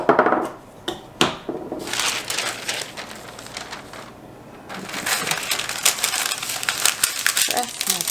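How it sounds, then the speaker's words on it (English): Parchment paper is pressed and creased into a baking pan while making no-bake granola bars, giving close, crackling crinkles and rustles in bursts with brief pauses and taps. "Press my parchment paper in."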